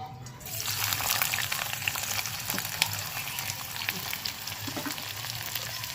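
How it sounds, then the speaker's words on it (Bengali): Onions frying in hot mustard oil in a clay pot over a wood fire, giving a loud, steady, crackling sizzle that starts suddenly and continues without a break. No one speaks. "তেলটা দেখো গরম হয়ে গেছে এর মধ্যে অর্ধেক পেঁয়াজ আমি ভেজে নেব"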